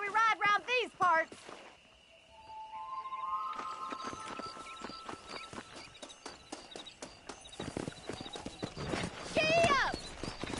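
Horse hooves clip-clop at a gallop in the Western video game Red Dead Redemption, a steady drumming rhythm with a neigh near the end, while a voice talks over much of it.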